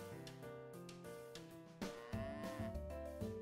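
A cow in a farming game moos in several drawn-out, close calls with rising and falling pitch, heard alone without any talk.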